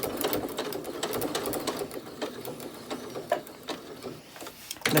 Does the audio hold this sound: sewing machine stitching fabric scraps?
yes